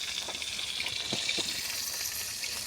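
Hilsa fish heads fry in hot oil at an outdoor picnic, giving a steady close hiss of sizzling with a few soft pops, no voices.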